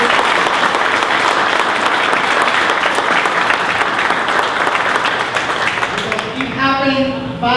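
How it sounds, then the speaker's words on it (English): A graduating class of 2024 at a high school event receives sustained, loud applause from a large crowd, with many hands clapping densely before it tapers off and a voice begins speaking near the end. "a big round of applause for you"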